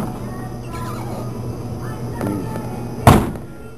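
A Ford hot rod's door pops open with a single sharp, loud thump near the end, standing out over a steady background hum and faint talk.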